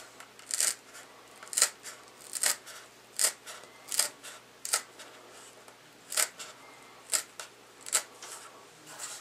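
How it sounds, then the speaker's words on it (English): Scissors snip through a holster during a combat cut, about a dozen short crisp cuts at a steady rhythm, close and clear with no talking. "Okay, so now I'm going to cut this down."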